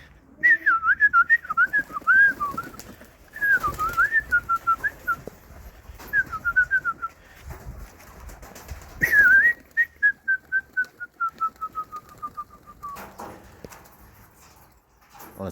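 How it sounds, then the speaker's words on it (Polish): Pigeons in a backyard loft, including high-flying tumbler birds, with repeated whistling calls and bird chirps over soft rustling and clatter, fairly close and moderately loud, with no talking. "Tu moje górnolociki"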